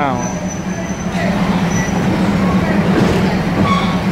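A train at Khlong 19 railway junction in Thailand, a loud, steady rumble of rolling stock with faint squeals over it, close by.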